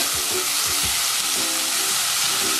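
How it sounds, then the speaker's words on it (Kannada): Soaked moong dal frying in a pan for gluten-free khichdi, a dense steady sizzle close up with a few soft stirring scrapes, no talking. "ಹೆಸರು ಬೇಳೆನೂ ಸ್ವಲ್ಪ ಹುರ್ಕೊಂಡಿದ್ದಾಗಿದೆ."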